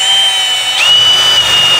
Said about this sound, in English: I've got it on speed 2, and we just need to drill it in one brave move